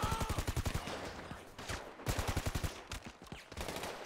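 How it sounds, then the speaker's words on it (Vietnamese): Rapid automatic gunfire from big-headed cameramen enemies in a video game, bursts of closely spaced shots repeating loudly in several volleys with brief pauses between them. "mấy người anh em cameraman đầu bự quay bắn mình luôn rồi"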